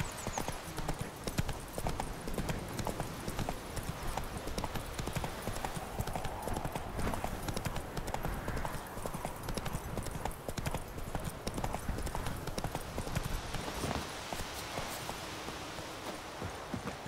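In The Witcher 3, the horse Roach walks with steady hoof clip-clops in an even, close rhythm, the continuous clatter running throughout at a moderate level.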